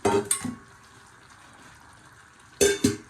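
Leafy greens drop into a frying pan with hilsa fish, making two short bursts of sizzling and rustling at the start and the end, with a quiet low simmer in between.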